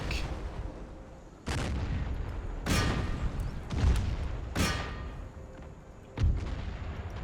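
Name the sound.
mortar and artillery fire in the Empire video game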